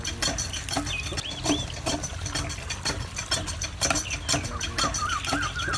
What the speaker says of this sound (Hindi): अब हम इसमें काली मिर्च का पाउडर ऐड करेंगे और साथ ही जायके के मुताबिक नमक अच्छी तरह मिक्स कर